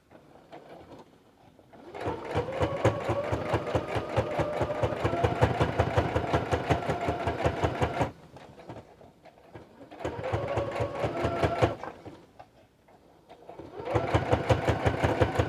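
A sewing machine runs in three bursts of rapid, even stitching, each lasting a few seconds and separated by short quiet pauses, heard close and clear.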